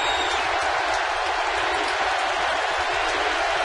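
A baseball stadium crowd at a Giants game cheers and applauds continuously, a dense, loud roar of clapping filling the space with no individual voices standing out.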